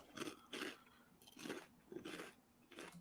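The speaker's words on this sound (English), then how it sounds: "only hear you chewing" Close, crunchy bites and chewing of food in five or six bursts spaced about half a second apart, each a dry crackling crunch heard alone near the mouth.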